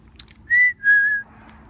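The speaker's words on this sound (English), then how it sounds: "there's my favorite bird, listen." A bird sings outdoors, two clear whistled notes close by, one short and one longer, over a quiet background.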